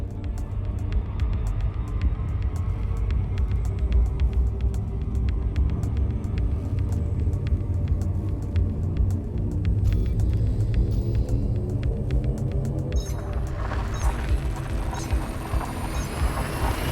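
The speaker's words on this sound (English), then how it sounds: "Frame shift drive charging." Frame shift drive charging aboard a ship in Elite Dangerous: a deep, steady rumble that swells near the end into a rising, brighter whine, continuous and close with no talk.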